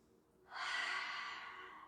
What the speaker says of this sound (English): Take a cleansing breath. Inhale nose, exhale mouth.